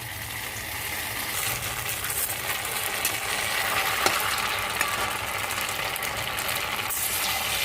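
Cottage cheese balls fry in hot oil over a high flame, a steady, dense sizzle that stays even and fairly close throughout, with faint stirring clicks.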